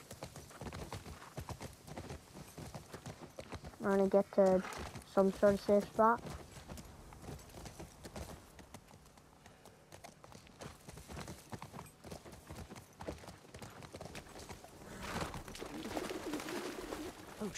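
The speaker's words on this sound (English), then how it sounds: "Oh, the horse can probably jump that" A horse's hooves clip-clop faintly in The Last of Us Part 2, a soft steady plodding with a brief louder animal call partway through, under someone talking.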